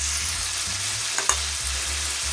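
Seasoned hamburger meat with onion powder, garlic powder and smoked paprika sizzles steadily in a pan, a loud close frying hiss with a couple of brief spoon scrapes as it is stirred, no talking.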